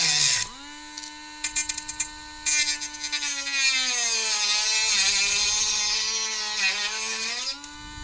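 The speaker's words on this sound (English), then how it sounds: "I can sand it down." A power tool whines steadily as it cuts and sands a joystick, its pitch dipping and rising with load over several seconds before stopping near the end; loud and close, with no talk over it.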